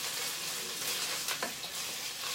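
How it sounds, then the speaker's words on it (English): Tomato paste and vegetables sizzle steadily in a hot pan, a close, bright hiss with a louder burst of crackle midway as they are stirred. "You hear it sizzling?"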